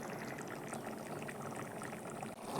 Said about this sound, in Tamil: நல்லா கொதித்து எண்ணெய் பிரிஞ்சு வர ஆரம்பிச்சிருச்சு